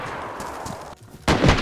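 Gunfire in the DayZ survival video game: a short burst of loud, close shots breaks out after a brief lull, following a noisy stretch of game action.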